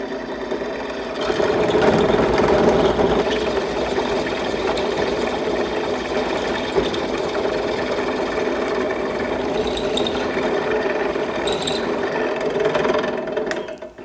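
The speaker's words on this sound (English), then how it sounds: "throw this in the drill vise here and get this drilled." A drill runs steadily, whirring and grinding into a metal part held in a drill vise at a constant pitch for many seconds, with a faint clatter near the end.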